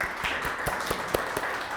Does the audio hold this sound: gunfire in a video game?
no